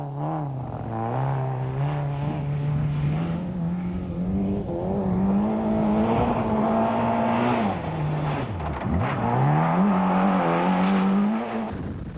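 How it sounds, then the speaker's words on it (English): A 1994 Class D rally car eases over a rough section of a mountain stage, its engine droning and rising and falling in pitch with a brief dip and recovery, heard close and loud with no talk. "Stark and Cindy take it easy over one of the more rough sections of the stage."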